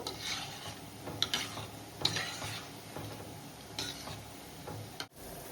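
Gulab jamun dough balls fry in hot oil for a Diwali sweet, giving a steady close sizzle with soft bubbling and a few light clinks of a utensil against the pan; no one speaks.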